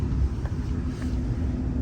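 Steady low rumble of an Amtrak Wolverine passenger train heard from inside a carriage near Wayne, Michigan, a continuous dense drone with faint rattles and no talking.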